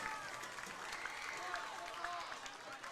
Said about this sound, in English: As you can hear, the crowd is in it.